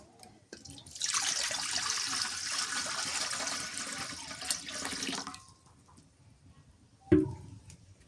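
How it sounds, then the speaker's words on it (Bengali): Water poured into a wok set over a damp wood fire, a steady close splashing rush lasting about four seconds, followed by quiet and a single sharp knock. "কড়াইয়ে পানি দিয়ে দিছি, পানিটা গরম হোক।"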